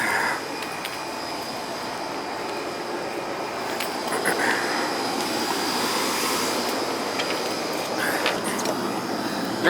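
An old air conditioner unit runs with a steady, broad roaring hum and a faint whine, continuous and fairly loud throughout, with a few light clicks and knocks over the drone.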